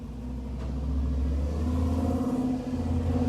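A Chevy car with a loud aftermarket exhaust rumbles past on a road, giving a deep, heavy, sustained drone that swells slightly as it goes by.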